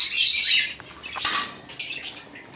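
A red-eyed lutino lovebird pair and finches in a bird shop chirp loudly in bright, overlapping bursts, with brief flutters in between.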